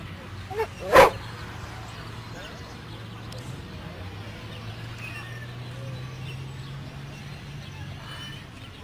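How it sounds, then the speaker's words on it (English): A dog lets out a couple of short, sharp barks close by, one quick yip followed by a louder bark, then falls quiet over a low steady background hum. "Look at the cute dog."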